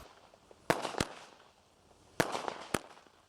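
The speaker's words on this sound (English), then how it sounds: "Once you have what you need to light your fireworks safely," Fireworks set off outdoors, four sharp cracking bangs in two pairs, each followed by brief crackling decay, moderately distant with no talk.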